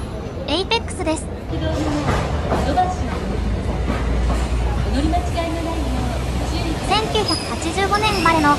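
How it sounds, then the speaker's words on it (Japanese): A Hiroden type 5200 Green Mover Apex tram pulls in at the Hiroshima Station streetcar terminal, steady rumble and squealing wheels amid busy street noise, with voices talking nearby throughout. "到着した列車は5200型グリーンムーバーエイペックスです。"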